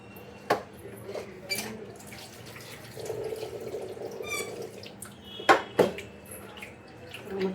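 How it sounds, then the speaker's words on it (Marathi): Mutton is rinsed under a running tap, with a soft steady flow of water, a few sharp clatters and splashes, and some faint voice in the background. "मटण बघा आता स्वच्छ धुवून झाले."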